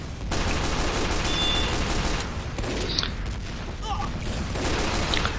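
Scout pistol and shotgun gunfire in the video game Team Fortress 2, a dense continuous barrage of shots and blasts with a few sharper cracks, loud throughout.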